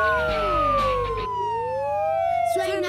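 A cartoon police patrol car siren, bright and loud, its wailing tones sweeping up and down over a low engine hum, with animated children's show voices and music around it.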